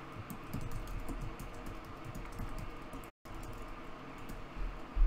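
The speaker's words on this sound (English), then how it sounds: "here I'm just typing in the password that I want to set for this account" Steady, soft clicking of keys on a computer keyboard, continuous and fairly quiet, with a brief dropout midway.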